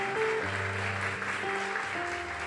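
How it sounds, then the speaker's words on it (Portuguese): Congregation applauding during a Sunday church service, a dense clapping wash under sustained organ or keyboard chords. "Vamos aplaudir Jesus em forte."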